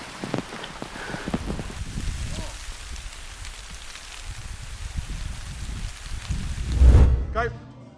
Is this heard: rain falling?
yes